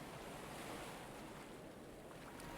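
A streamlined boat hull cuts through water at about 8.8 knots in Stormworks, a faint, steady wash of surf-like hiss and wind without any talk.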